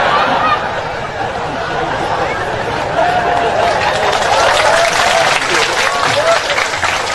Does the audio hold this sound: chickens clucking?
no